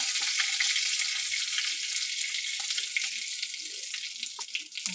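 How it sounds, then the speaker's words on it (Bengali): Bay leaf, dried red chili and whole cumin tempering in hot oil for moong dal khichdi, a dense, bright crackling sizzle with scattered pops, close and steady, with no voices. "এবার তেলটা গরম হয়ে গেলে আমি একে একে তেজপাতা, শুকনো লঙ্কা আর গোটা জিরে ফোড়ন দিয়ে দেবো।"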